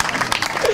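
Brief burst of audience applause at a village gathering in Sandhwan, Faridkot, Punjab: dense, steady clapping from a crowd, moderately loud, with voices faintly mixed in.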